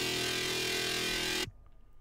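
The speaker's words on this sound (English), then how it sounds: "Without distortion it sounds like this." A bright, buzzy Xfer Serum scream synth patch, played without tube distortion, holds one sustained note loud and up front, then cuts off sharply at about one and a half seconds, leaving near silence.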